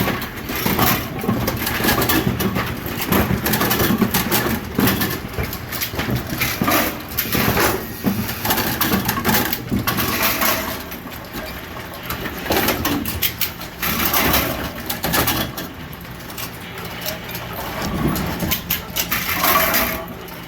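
A Mendes Magnet 2001 bowling pinsetter clatters and churns continuously, with repeated mechanical clunks and rattling pin handling up close, loud and busy throughout.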